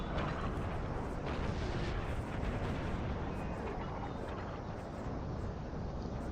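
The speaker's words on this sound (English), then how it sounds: "these guys are getting pummeled by the artillery" Heavy, continuous rumble of artillery bombardment in the Napoleonic-era strategy game Napoleon: Total War, a dense, steady roar of cannon fire and explosions across an online battle with no clear pauses.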